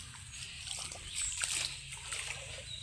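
Water splashes and sloshes as a bucket is poured over a bather at a small stream near Galle, a steady wet splatter with a brief louder surge midway, close and alone.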